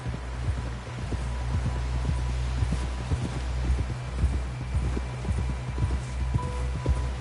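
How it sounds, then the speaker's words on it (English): Horse hooves clip-clop at a steady walking pace, close and clear over a continuous low rumble. "Someone help John down off this horse"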